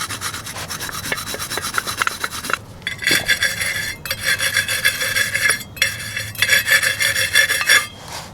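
Abrasive rubbing and rasping on the metal pulley of a Polaris 330 Trail Boss ATV clutch as old belt material is scrubbed off, steady close strokes with brief pauses, no talking.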